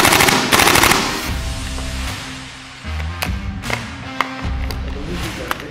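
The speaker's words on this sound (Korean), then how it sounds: "장전을 해보시면 이런 식으로 다 기계적으로 작동이 되고요. 단발도 되고 이제 연발도 되는 거예요." A realistic replica rifle with a working mechanism fires rapid automatic bursts and single shots, loud and close, in a sharp, rattling sequence with no voices.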